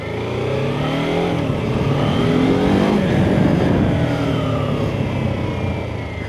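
A BMW F450GS motorcycle engine revs and climbs steadily in pitch, a continuous loud roar with rising and falling harmonics as it accelerates.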